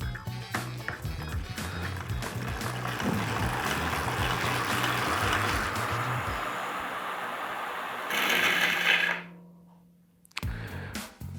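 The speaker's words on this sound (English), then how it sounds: "That's the brake block, the metal part of it, where it's worn down too much, cutting straight through your rim" A worn bicycle brake block, its metal backing exposed, grinds against an aluminium rim in a continuous rough scraping roar, then the spinning wheel fades almost to silence before a short burst of noise returns.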